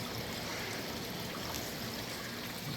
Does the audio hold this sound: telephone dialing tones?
no